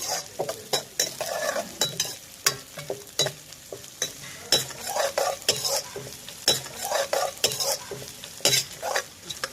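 Sliced onion is stirred in a frying pan after eggs, loud rhythmic scraping strokes of a spatula over an ongoing sizzle, repeated close up throughout.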